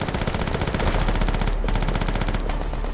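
Rapid automatic gunfire in a Stalingrad 1942 battle game, a loud continuous burst of rattling shots close by, with brief pauses between strings of rounds.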